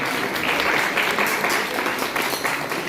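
Steady audience applause at a Bharat Smriti Samman award ceremony in India, a dense wash of many hands clapping evenly and continuously at moderate loudness throughout.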